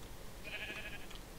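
A Minecraft sheep bleats once near a house being built, a short wavering bleat rising out of low background noise.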